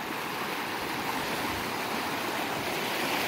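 A river flows continuously in an outdoor setting, a steady broadband rush of moving water, fairly soft and unbroken, with no voices.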